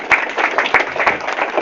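Applause from an audience at a Common Law Court of Wales meeting, a steady wash of clapping at moderate loudness, with a few sharper individual claps and a brief shout near the start.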